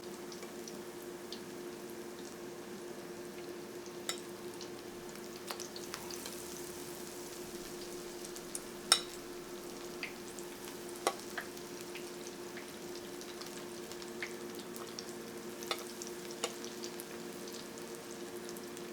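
Beer-battered food par-frying in a deep pot of hot oil, a steady soft sizzle with scattered faint pops and crackles, quiet and close with no talk.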